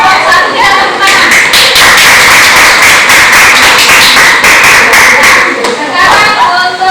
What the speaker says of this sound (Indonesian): Untuk itu kelompok 1 kita tepuk tangan.